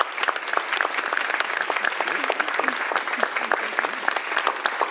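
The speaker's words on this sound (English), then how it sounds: "Please give our witnesses an applause." An audience at a religious liberty commission hearing applauds its witnesses, a dense, steady burst of many hands clapping that fills the room throughout.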